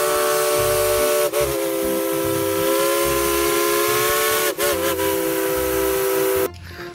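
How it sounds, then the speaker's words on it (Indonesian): A Thomas toy train sounds its steam whistle, a loud, sustained multi-tone hoot with two brief dips, lasting about six seconds before cutting off. "Wih, ada kereta Thomas"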